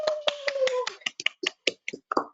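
A lone speaker launching a training manual in a virtual event claps by hand: about a dozen sharp, close claps in an uneven sequence, quiet overall, with a brief tone fading under the first few.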